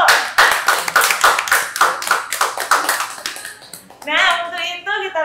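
Small podcast audience claps in a rapid, fairly close burst for about four seconds at a police podcast event, then the clapping gives way to a voice speaking.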